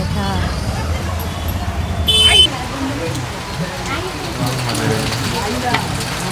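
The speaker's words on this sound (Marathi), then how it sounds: "पाऊस आला म्हणून थांबलो साईडला पाऊस मजबूत आलाय" Heavy rain pours down steadily at Dapoli market during the Ganpati festival while people talk nearby, with the low hum of traffic underneath.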